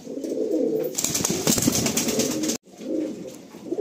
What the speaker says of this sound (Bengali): এই হলো দুটো নর পায়রা।